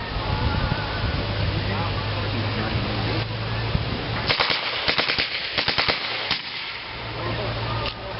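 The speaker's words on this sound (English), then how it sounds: "Feldwebel Riker, he's going to fire the MP40" A German MP40 submachine gun fired on full automatic at an outdoor D-Day reenactment demonstration, a rapid burst of roughly a dozen loud cracks, then a couple of shorter bursts, with someone speaking and a steady hum before and after.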